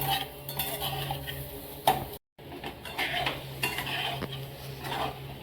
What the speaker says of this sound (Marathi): पाच मिनिट चांगले अंडे असे परतून घ्यायचे